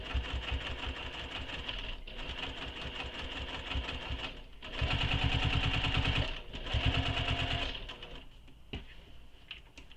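A sewing machine stitching all the way around a shoulder bag flap, rapid rhythmic needle chatter in bursts of a few seconds with short pauses, close and loud, nothing else.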